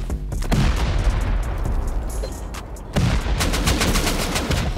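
Automated turrets open fire during a raid on an armored base in a video game, rapid bursts of gunshots cracking out in two close, loud volleys with a short lull between them.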